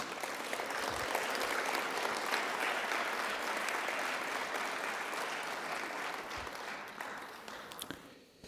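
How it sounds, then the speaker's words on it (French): Sustained applause from a conference audience at an Alzheimer's disease event, a thick wash of many hands clapping that holds steady for about eight seconds before tapering off at the end. "je vous demande de l'applaudir"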